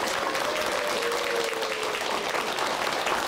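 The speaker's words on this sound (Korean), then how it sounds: "큰 박수로 맞이해 주시기 바랍니다." Studio audience at a Korean TV lecture broadcast applauds steadily as an education critic is welcomed onstage, a dense continuous wash of clapping at moderate level with no talk over it.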